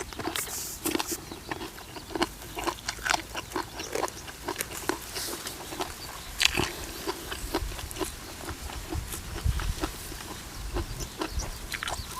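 Someone bites and chews a spicy Isan salad of red ant eggs with fried crispy bites, giving close, wet crunching and smacking that repeats steadily over a low background murmur, with no talking.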